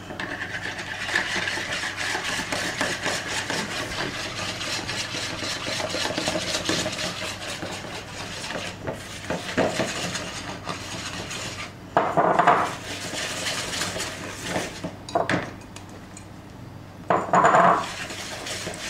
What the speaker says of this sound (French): vous allez les travailler au fouet et vous allez rajouter votre farine au fur et à mesure